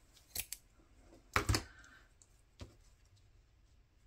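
Scissors snipping through a string while making a Polaroid journaling card, a few quiet close blade clicks and one louder crisp cut in the middle, with soft handling noise between.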